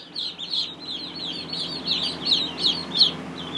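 Ducklings peep constantly in high, rapid chirps, close by and fairly loud, with no voices.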